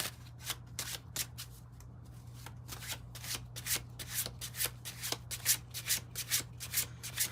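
Tarot cards being shuffled up close, a quick run of papery riffles and soft rubbing strokes that grow slightly louder and busier toward the end, over a steady low electrical hum with no talking.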